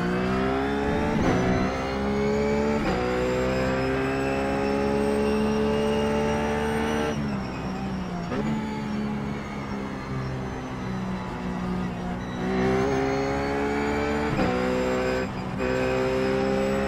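Ruf GT3 race car on the Sonoma circuit in iRacing, its engine loud and close, revving steadily through the gears with upshift and downshift drops in pitch, sustained for the whole run.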